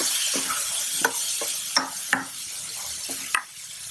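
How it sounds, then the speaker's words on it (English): Drained boiled black chickpeas are stirred in a pan, a spoon scraping and knocking against the metal in a loose, irregular rhythm over a soft continuous sizzle, close and moderately loud. "add in this drained boiled black chickpeas and stir it together."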